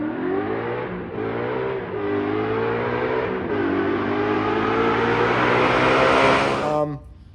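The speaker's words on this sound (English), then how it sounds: "the MBRP installer series mufflers, which are quiet when you're cruising, but when you open them up, man, they scream." Ford Boss 302 with side pipes and MBRP mufflers revs loudly up close, the engine note climbing in surges over several seconds before cutting off abruptly near the end.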